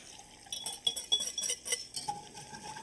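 A small whisk beating sauce ingredients in a pot, with quick rhythmic metallic clinks and swishes that run for a couple of seconds, close and fairly loud, with no talk.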